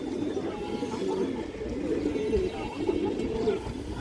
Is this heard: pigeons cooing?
yes